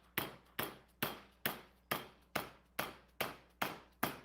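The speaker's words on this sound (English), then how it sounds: "Clamp down on your vise gently with a hammer." Hammer taps metal clamped in a vise in a steady run of ten crisp, evenly spaced strikes, each ringing briefly before the next, close and clear with no talk.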